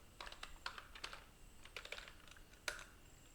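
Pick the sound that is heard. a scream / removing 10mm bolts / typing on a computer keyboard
typing on a computer keyboard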